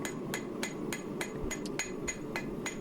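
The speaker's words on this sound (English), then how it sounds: "I'm using the peen side to try and get some extra width to it" The peen side of a hammer strikes hot drill rod steel being forged into a kiridashi knife, about ten sharp, ringing blows falling in a steady, even rhythm, close and clear with no voices.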